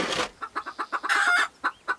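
Caged chickens cluck close by in a quick, rhythmic series of short calls, with a louder squawking burst partway through and a few spaced clucks at the end, no talk.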